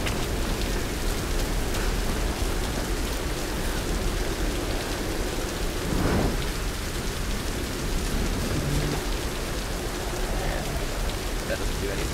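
Steady, heavy rain pours in the Tomb Raider video game as a loud, unbroken hiss. A brief rumble of thunder swells near the middle.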